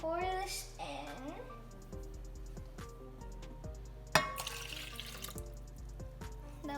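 Liquid is poured into a bowl while making apple crumble. A quiet, close trickle and splash comes with light clinks, and one sharper knock partway through.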